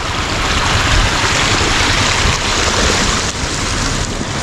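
A stream at a water crossing near an old temple in Gulmarg, Kashmir, rushes and splashes loudly and continuously close by, with no voices over the flow.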